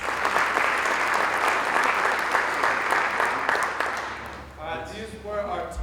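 A crowd applauds all-star game players at a high school all-star event, dense steady clapping lasting several seconds before fading out as a voice begins speaking.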